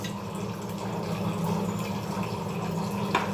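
Water coming to a boil in a cooking pot for beef biryani, a steady close bubbling and seething hiss that holds even and continuous throughout with no talking.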